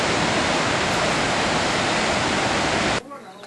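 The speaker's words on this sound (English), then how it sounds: "But yeah, Victoria Falls, the river is Zambezi River." Thunderous, steady roar of Victoria Falls, the great waterfall on the Zambezi River, filling the air as dense broadband noise for three seconds before cutting abruptly to a much quieter background.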